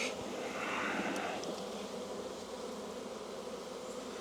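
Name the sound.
honey bees buzzing during a beehive inspection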